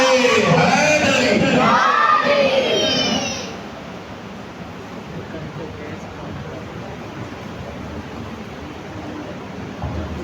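A large crowd at a Milad un-Nabi naat gathering roars a religious slogan in loud unison, the massed voices filling the first three seconds before falling away to a quieter hall murmur.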